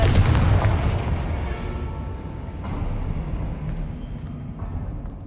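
A Confringo fire spell in Hogwarts Legacy bursts as a loud, deep, booming explosion right at the start, then a long rumbling decay with faint crackle and clatter trailing off.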